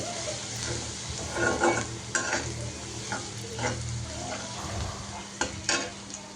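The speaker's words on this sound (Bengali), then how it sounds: "এখন মাংসটাও ভেজে নিচ্ছে। সাথে পেঁয়াজ কুচি, কাঁচামরিচ কুচি দিয়ে দিল।" Meat frying in a pan with chopped onion and green chili, a continuous close sizzle broken by repeated stirring scrapes and clinks of a spoon against the pan.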